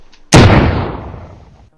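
A single loud, close gunshot from a gun in the VR game Hand Simulator, a sharp blast followed by a long decaying rumble that fades over about a second and a half.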